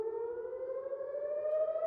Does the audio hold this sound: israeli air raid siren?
yes